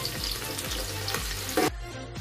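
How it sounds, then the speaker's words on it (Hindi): Onions fry in oil until golden brown for a vegetable biryani, making a steady, close sizzle with rhythmic stirring scrapes and a sharper clatter near the end. "पियाज गोल्डन ब्राउन फ्राई कर काढ़ीदेवे"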